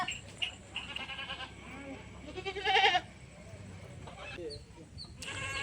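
Goats bleating on a farm as the herd heads out to graze, several loud, wavering calls overlapping one another near and farther off, with a rooster-like cry among them and steady background noise.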